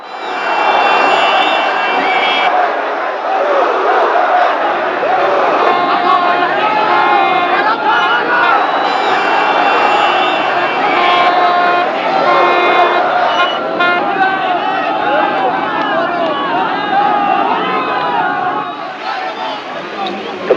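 A dense, emotional crowd surrounds Khomeini's motorcade in Tehran in 1979, a continuous loud roar of shouting, chanting and babble that stays close and unbroken before easing slightly at the end.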